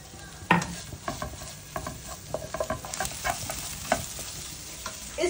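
Crushed ginger and garlic fry softly in a pan for a butter chicken roll filling, a low hiss broken by scattered light clicks and scrapes of stirring, close but fairly quiet.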